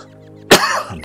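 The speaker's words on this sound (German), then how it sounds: "Jetzt muss ich leider husten." A single sharp cough from a person, sudden and close, with a short rough tail after it, following a near-silent moment.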